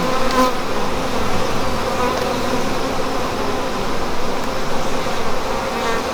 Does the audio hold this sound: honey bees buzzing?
yes